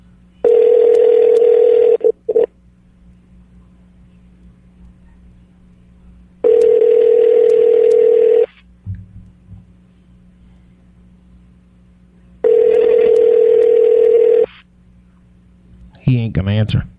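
Telephone ringback tone for an outgoing call waiting to be answered, three long two-second rings spaced about four seconds apart over a low hum, with faint background sounds in between.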